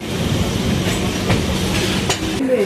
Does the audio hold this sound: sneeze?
no